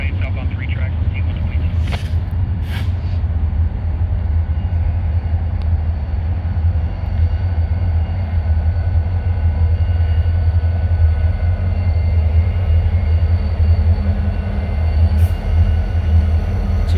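CSX freight locomotives, including a new GP40-3, pass on the railroad at Canal Ridge Road with a loud, steady low engine drone and rumble throughout, joined by a couple of brief sharp horn-like bursts early on.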